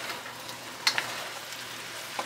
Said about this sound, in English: I'm gonna go ahead and mix this up.